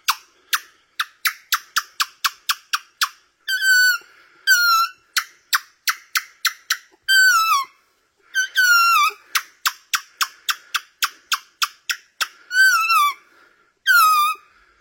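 A person imitates a monkey in the Cambodian jungle with a fast run of sharp squeaky pulses broken by rising, warbling whoops, repeated in bursts, close and fairly loud, with no other talk.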